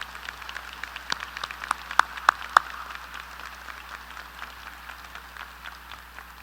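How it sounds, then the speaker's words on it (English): A graduating audience at Haslett High School's 2015 ceremony claps for dedicated staff members, a fairly faint, steady wash of crowd applause with a few sharper claps standing out nearby. "Please join me in a round of applause for these dedicated staff members."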